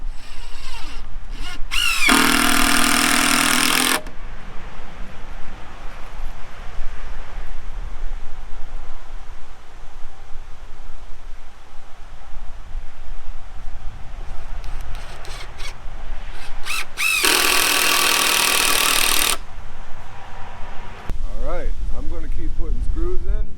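A power drill drives screws into decking boards outdoors in two loud bursts of whirring, each about two seconds long and widely spaced. Wind and handling noise fill the gaps between them.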